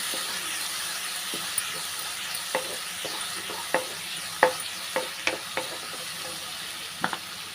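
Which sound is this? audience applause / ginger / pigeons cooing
ginger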